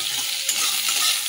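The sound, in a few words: onion and garlic frying and being stirred in oil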